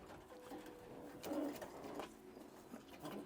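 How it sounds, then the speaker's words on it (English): Racing pigeons in a loft give soft, low coos, a couple of faint rolling calls standing out over quiet background hum. "These are pure Gino Klitschko pigeons"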